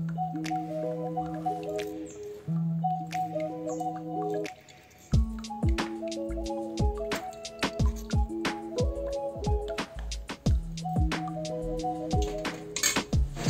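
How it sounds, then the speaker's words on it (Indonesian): Soaked seeds stirred in strained herbal jamu infusion for perkutut bird feed, wet squishing and dripping with irregular clicks and knocks, close and fairly clear, a tonal hum underneath, a brief quiet pause near the middle. "Kemudian lakukan pengadukan agar tercampur dengan merata."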